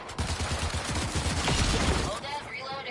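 Rapid bursts of gunfire from a PS5 shooter game rattle loud and dense for about two seconds, then break off into a fading tail.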